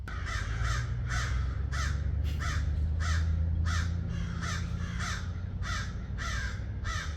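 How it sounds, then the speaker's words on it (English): Repeated harsh crow caws, about a dozen in steady rhythm, ringing out nearby over a constant low rumble of background noise. "Got some angry crows behind me here."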